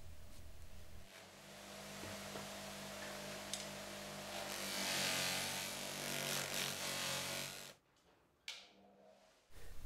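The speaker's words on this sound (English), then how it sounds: "To get a mirror finish, you use the green compound on the floppy wheel." A cloth buffing wheel loaded with compound polishes a knife blade, giving a continuous close rubbing whir that swells midway, then drops off near the end with a few brief scrapes.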